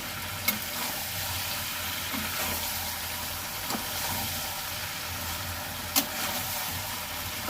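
Chicken, potato and malabar spinach curry sautéing in a pan, a steady low sizzle and bubbling with a few sharp clicks of the spoon against the pan, moderately quiet and free of talk.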